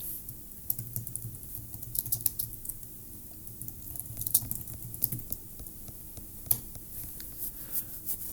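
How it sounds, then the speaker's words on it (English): Fast, uneven typing on a computer keyboard while entering a text block in a WordPress page editor, a steady patter of soft key clicks with occasional louder strokes, close and alone. "I'm going to type the first alinea."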